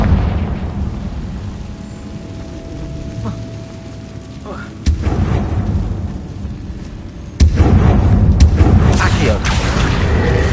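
Hogwarts Legacy Confringo fire spell blasts: two booming impacts land in sequence, the second louder and followed by sustained rumbling, over a low game ambience with a voice casting spells.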